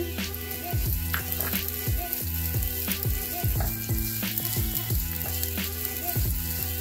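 Onion frying in a tablespoon of oil in a preheated pan, with steady close sizzling and repeated scraping and stirring strokes throughout.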